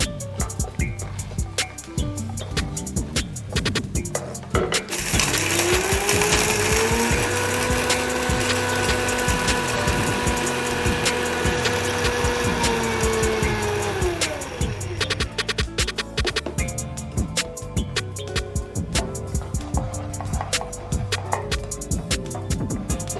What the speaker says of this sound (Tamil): இப்போ நம்ம வந்துட்டு இதில் ஜாரில் மாற்றிக்கிட்டு அரைச்சிக்கலாம்